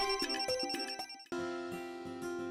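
A phone ringtone plays alone: a bright, repeating melodic pattern of quick electronic tones, pausing briefly before resuming in a steadier sequence.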